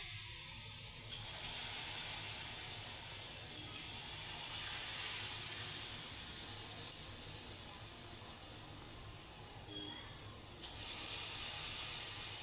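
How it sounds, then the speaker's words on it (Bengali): Bara fritters frying one by one in hot oil make a soft, even hiss that runs steadily throughout, fairly faint and without speech. "তো একটা একটা করে বড়া ছেড়ে দেওয়া হচ্ছে আর ভাজা হচ্ছে।"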